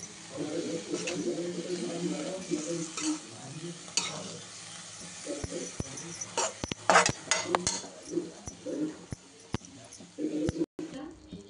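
Shepu (dill) bhaji is turned over and stirred in a pan, giving a sizzle with repeated scraping clatter and sharp knocks of the spoon, close by, while a voice talks over the early part.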